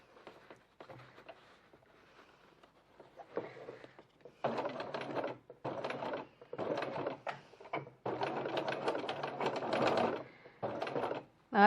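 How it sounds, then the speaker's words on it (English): A sewing machine stitches the sides and centre line of a slip pocket on a bowler bag, running in several separate bursts of steady mechanical whirring with short pauses between them, close and fairly quiet. "stitch those sides, and also down the middle"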